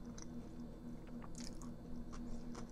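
Faint close biting and chewing of a crunchy peanut butter and pickle sandwich, soft crunches and squishy mouth sounds repeating over a low steady hum.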